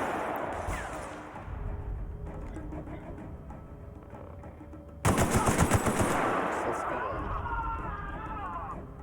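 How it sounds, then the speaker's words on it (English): Rapid automatic gunfire in The Outer Worlds, a sci-fi shooter, erupting loud and close in dense bursts midway after quieter game ambience, with a voice talking earlier. "Somebody's shooting at us."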